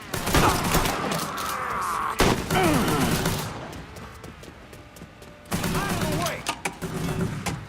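Heavy gunfire in the video game Mafia III, dense overlapping bursts and volleys under game dialogue and shouting voices.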